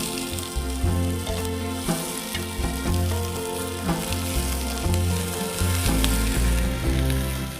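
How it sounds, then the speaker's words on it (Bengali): Chopped cabbage hits a pan of well-fried spice paste and sizzles loudly and steadily, with a dense crackle of frying and light stirring throughout and no voices. "এবার কুচি করে রাখা বাঁধাকপিগুলোকে দিব।"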